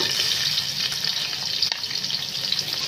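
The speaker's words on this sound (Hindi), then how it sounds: "प्याज डालकर हम इसको ब्राउन करेंगे।" Onions frying in ghee for biryani, a steady close sizzle with faint stirring noises, no talk.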